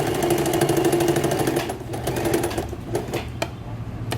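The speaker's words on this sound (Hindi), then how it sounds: "अभी उस खुले हुए हिस्से को हम यहाँ से सिलाई लगाएंगे इस तरह से" Sewing machine running steadily while stitching a pocket onto a salwar, a continuous close mechanical whir with a few brief clicks and pauses toward the end.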